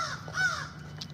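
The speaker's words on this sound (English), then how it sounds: "Crows must have followed me here." Crows caw a few times outdoors at moderate distance, short harsh calls over a low steady background hum.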